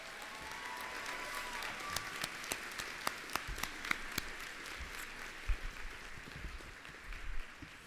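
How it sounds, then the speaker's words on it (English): A commencement ceremony crowd of graduates and families applauds the faculty and staff: sustained loud clapping with sharp individual claps standing out, some cheering. "let's give an insane loud round of applause for our faculty and staff here today."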